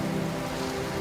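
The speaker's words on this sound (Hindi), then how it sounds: "इतने में गरजते बादल और बिजली से बारिश शुरू होती है।" Rain pours in a cartoon storm scene, a continuous dense hiss layered over a low steady hum, brief and uniform with no speech.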